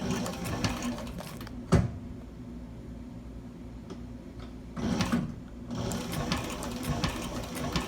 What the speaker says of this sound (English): You notice that needle pokes through the leather and pushes the leather back.